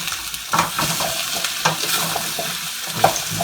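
Ingredients being stirred around a hot pan, steady frying sizzle with scraping and clinking of a utensil throughout, close and fairly loud with no talking.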